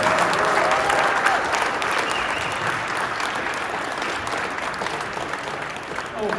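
Audience at a presentation applauds the project team, a broad sustained roar of clapping from a sizable crowd, loud and steady with faint voices mixed in.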